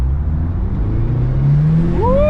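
Turbocharged Ford Mustang SVO accelerating hard on a track, a loud, close engine drone climbing steadily in pitch and ending with a rising turbo whine.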